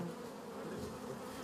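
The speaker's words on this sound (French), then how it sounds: "Tu vois que les abeilles ne peuvent même pas piquer." Honeybees swarm around a vandalised hive as it is cleaned up, producing a steady, dense buzzing drone that holds unbroken throughout without any speech.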